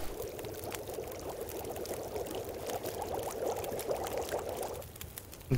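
Water boiling over a campfire in The Long Dark video game, a steady bubbling, churning wash that holds at an even level throughout, with no voices.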